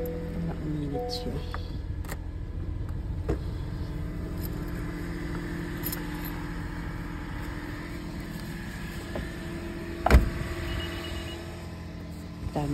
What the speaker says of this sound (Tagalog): Start ko muna itong sasakyan dahil malamig ito para maging mainit sa loob.